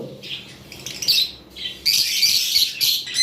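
Loud, harsh squawks and chirps from a rare lovebird kept for breeding, coming in repeated close bursts with a sustained shrill stretch near the end.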